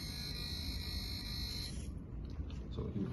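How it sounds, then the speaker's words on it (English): A pedestrian crossing's audible alarm signal sounds as a steady electronic buzz with a high tone that cuts off partway through, leaving low hum and faint handling noise. "So this is the alarm"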